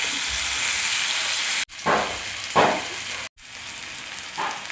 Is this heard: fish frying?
yes